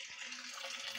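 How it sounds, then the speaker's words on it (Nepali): Water runs from a tap into bottles at night, a steady, fairly quiet hollow trickle and gurgle that carries on without a break and without voices. "अनि राति यसरी भर्नुपर्छ पानी"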